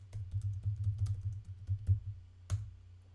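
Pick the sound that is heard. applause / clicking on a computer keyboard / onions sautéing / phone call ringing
clicking on a computer keyboard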